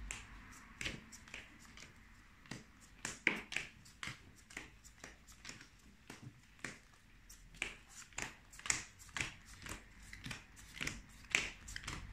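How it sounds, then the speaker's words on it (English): A deck of Yu-Gi-Oh trading cards is shuffled by hand, giving quick, crisp riffles and taps in an irregular run of short bursts, close and fairly quiet. "Make sure to give it a good shuffle"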